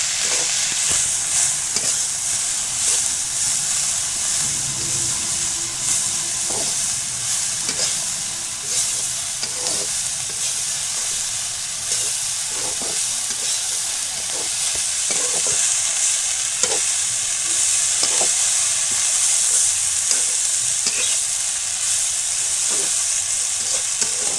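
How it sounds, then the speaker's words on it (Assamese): Taro leaf greens fry and get stirred in a pan, with a steady bright sizzle and hiss running throughout and repeated scraping clicks of a spoon at an irregular pace, close and fairly loud, with no talking. "এইখিনি ধুনীয়াকৈ লৰাই দিম"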